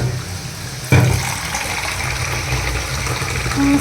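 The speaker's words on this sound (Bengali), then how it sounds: "এই টিফিনকে এটা করে অল্প একটু গরম জল দিই" Hot water pours into a tiffin container in a home kitchen, starting with a sudden rush and running as a steady, close splashing stream for a few seconds against a low background rumble.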